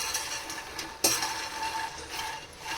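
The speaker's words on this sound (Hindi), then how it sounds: "तो ये है हमारे मखाने रोस्ट हो रहे हैं।" Makhana (fox nuts) roasting in ghee in a pan: steady crackling sizzle with light rattling and scraping as the nuts are stirred, one sharper clatter partway through.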